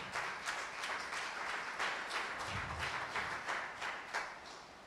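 A congregation at a Spanish-language prayer service applauds, a fairly quiet, steady patter of many hands with some rhythmic surges, fading slightly at the end.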